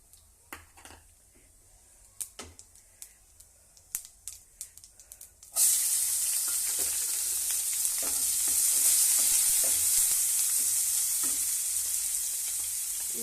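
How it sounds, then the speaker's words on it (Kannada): Cumin and mustard seeds crackle with faint, scattered pops in hot oil, then chopped onion drops in and a loud, steady sizzle takes over for this dal and fenugreek-leaf stir-fry. "ಜೀರಿಗೆ ಸಾಸಿವೆ ಚಟಪಟ ಅನ್ನೋದಕ್ಕೆ ನೀರುಳ್ಳಿ ಹಾಕ್ತೀನಿ ರೀ"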